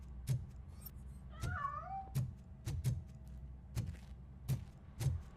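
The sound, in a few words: cat meowing in RoboCop: Rogue City video game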